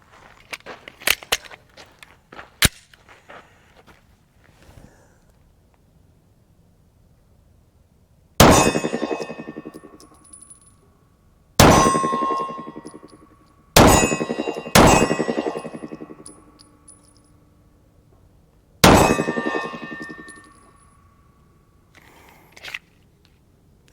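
Rounds of 9mm Federal 138 grain Syntech ammunition striking a steel target, five loud ringing clangs spaced a few seconds apart, each decaying slowly, with a faint final ping and small handling clicks before the first shot.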